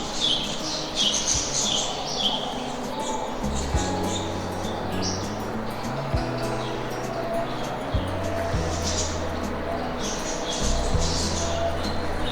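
Parakeets in a Toledo Zoo aviary squawk again and again in harsh, overlapping bursts from a tree full of birds, over a constant low background hum.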